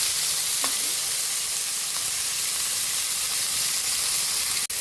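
Chicken breast sizzling in a pot after onions for a sotanghon soup, a steady broad frying hiss with faint stirring throughout and a sharp clack near the end.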